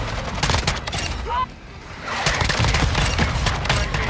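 A KV Broadside shotgun fires in the Modern Warfare 2 video game, giving heavy booming blasts in quick succession while a player talks over the shots.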